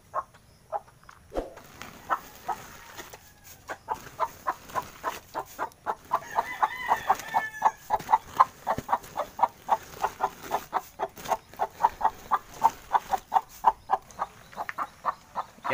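A black Hulohano mother hen gives a long run of steady, rhythmic clucks close by her chicks, with a brief louder call partway through, in a quiet setting.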